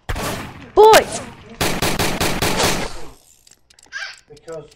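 Gunfire in the Roblox game Apocalypse Rising: a dense, loud burst of rapid repeated shots fires for about two seconds after a brief excited shout, then stops, leaving faint game sounds.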